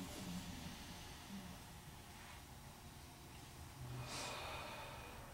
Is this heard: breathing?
yes